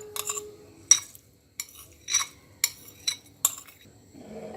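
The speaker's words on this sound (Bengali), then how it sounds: "এখন চাউলটাকে আস্তে আস্তে নেড়ে দিয়ে আপনার যাতে তলায় লেগে না যায় সেভাবে জাল করতে হবে।" Kalijira rice being stirred slowly in a pot for payesh, heard as a series of separate metallic clinks and scrapes of a spoon against the pot, close and quiet, spaced about every half second with short pauses between.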